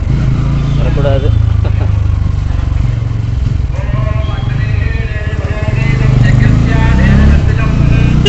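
Motor vehicle engine droning steadily while riding along a road in the evening: a loud, continuous low rumble with wind noise, and someone talks over it throughout.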